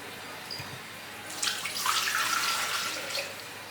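Water splashes and pours steadily into a Thermomix mixing bowl for a couple of seconds, following a brief quiet moment.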